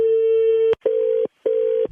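Telephone keypad tones sound during a comedy prank call: a long steady beep followed by two shorter ones with brief gaps between, loud and close with no talking.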